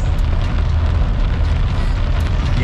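Heavy rain pounding a moving vehicle as it cruises through puddles, a dense, constant roar with deep low rumble and no gaps, loud and close throughout.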